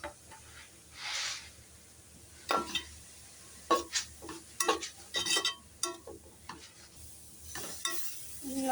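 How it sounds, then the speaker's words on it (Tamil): A spoon stirs food around a pan with scattered scraping clatters and a soft background sizzle, the strokes coming in irregular bursts with quiet gaps between them. "திரும்ப பழையபடி நல்லா கிண்டி விட்டுக்கலாம்."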